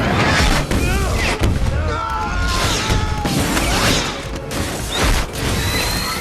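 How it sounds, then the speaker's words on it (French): Film action sequence with a row of rockets bursting from the side of a car toward two men: dense, loud layered whooshes, streaking whistles and booms over a busy score, with no pauses. "Une rangée de roquettes jaillit du flanc de la voiture en direction des deux hommes."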